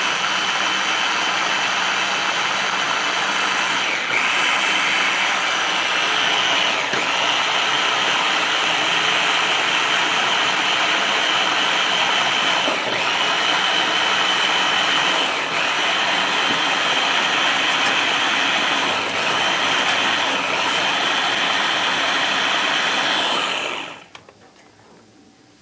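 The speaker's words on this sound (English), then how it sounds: "So when I blend the whole thing together, I do it really fine." An electric blender runs loud and steady for over twenty seconds, whirring a rum raisin ice cream mix very fine, then cuts off abruptly near the end.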